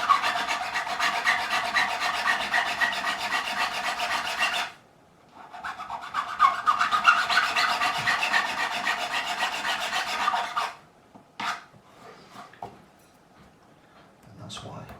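A metal file rasps a bevel onto a guitar fret on a Fender Telecaster, two long steady stretches of close, rhythmic back-and-forth filing, then a few short strokes separated by quiet.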